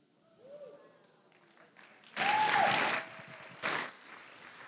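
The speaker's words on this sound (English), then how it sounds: "And that applause was for you." A conference audience of female entrepreneurs bursts into applause, a dense clapping swell that rises suddenly, holds for under a second, then returns in a shorter burst, with faint murmuring and a brief whistle in the room.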